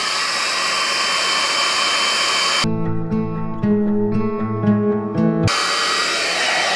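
A GHD Duet wet-to-dry hair styler blows with a steady, loud, close rush of air, switching partway through to a lower humming setting with a clear whine before the full rush returns.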